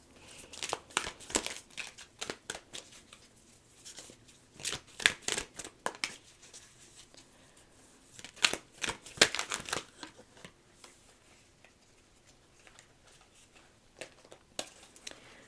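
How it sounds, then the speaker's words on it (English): Tarot cards are shuffled in quick papery bursts, pausing between rounds of brisk riffling and crinkling, fairly close and quiet overall. "gonna try to get this away from the mic so you don't have to hear loud shuffling"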